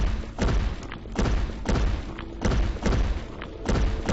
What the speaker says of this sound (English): There's a Minotaur come to say hello by the sounds of it.